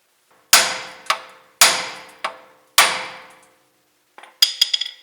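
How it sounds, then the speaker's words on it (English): Three heavy metallic hammer blows on a ball joint of a 1992 Ford F150 ring out with echoing decay, each followed by a lighter rebound, then a quick flurry of smaller clinks. "I'm going to whack right here with a hammer"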